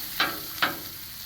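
Eggs frying over low heat on a Blackstone griddle, with two brief, crisp sizzle bursts rising from a quiet background hiss at close range.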